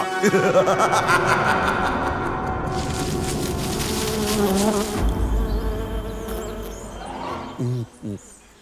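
Cartoon swarm of bees pouring out of a torn honeycomb in a jungle, a dense buzzing drone filling the scene with music and effects layered over it, ending in a couple of short sharp hits.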